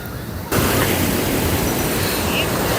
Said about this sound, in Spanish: Hoy en particular tiene un poquito más de oleaje y de hecho tiene algo de resaca.